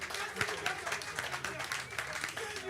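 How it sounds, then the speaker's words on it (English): Faint, steady applause from an audience at a youth house evening event with a Senate president, soft continuous clapping heard at a distance. "please, another round of applause for a destiny changer"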